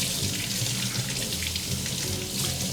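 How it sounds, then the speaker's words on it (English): Cold tap water runs steadily over a raw whole chicken being rinsed in a kitchen sink, a continuous close splashing hiss with no talk. "you can wash the chicken with cold water"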